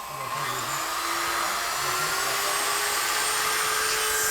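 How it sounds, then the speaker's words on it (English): Tungsten carbide burr grinding aluminium inlet ports on a Talbot Sunbeam engine, a continuous high whining drone close up with a faint lower hum beneath, no talk over it. "We're basically just grinding away bits of aluminium from the inlet ports."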